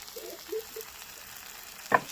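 Chilli and cumin powders fry with green chillies in a pan, giving a faint, low sizzle with a few soft stirring scrapes and a short, sharper scrape near the end.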